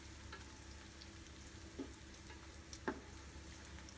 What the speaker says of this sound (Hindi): इसे हम थोड़ा बहुत फ्राई कर लेते हैं ताकि थोड़ा सा जायका गरम मसाले का इसमें निकल आए तेल में